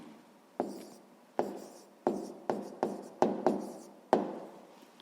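Handwriting as a sixth-grade math problem is solved: about eight crisp scratching strokes with short decays, spaced irregularly, close and fairly quiet, no voices.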